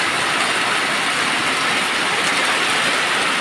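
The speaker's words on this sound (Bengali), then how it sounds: "এই দেখো অধরে বৃষ্টি আর হাওয়া হচ্ছে, হালকা হাওয়া।" Steady, dense rain hisses continuously with a light wind blowing, loud and unbroken throughout with no voices.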